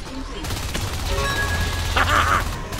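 In the video game Natural Selection 2, a cannon fires and its rounds explode in a rapid volley of sharp blasts. Clattering impacts and a louder burst of crashing explosions follow near the end, over constant game background noise.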